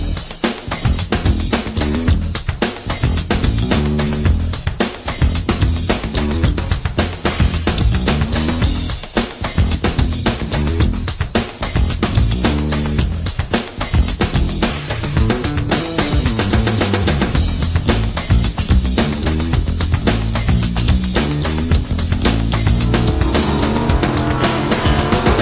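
A Chevrolet LS V8 with Holley EFI runs hard on a dyno under a dry nitrous shot, a loud, continuous, dense engine roar that holds steady for the whole stretch with no talk over it.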